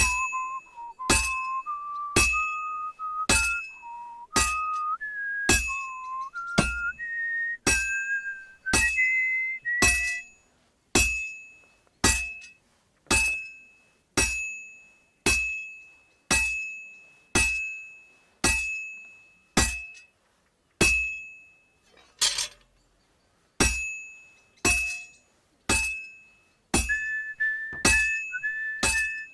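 A hammer strikes white-hot metal at a forge in Kingdom Come: Deliverance 2, with about two dozen evenly spaced ringing metallic clinks over a sustained whistling tone that climbs in pitch and later returns.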